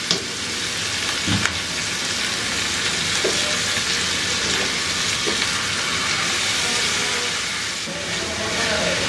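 Thick-cut onions and thin-sliced potatoes frying in hot oil in a frying pan on a stove, a loud continuous crackling sizzle with a few soft knocks of a utensil, steady from start to end.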